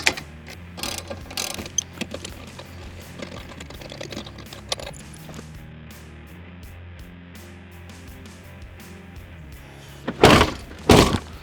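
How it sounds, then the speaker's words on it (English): A ratchet tightens nylon-insert nuts on a no-drill ladder mount for a Dodge ProMaster van, with bursts of rapid clicking pawl strokes at close range, a quieter stretch, then two loud final clusters of ratcheting. "you're gonna go ahead and tighten these up in an alternating pattern like this"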